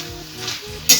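Spinach being sautéed dry in a pan for Bengali palong shak ghonto, a soft steady sizzle with stirring scrapes, ending in a brighter hiss burst near the close.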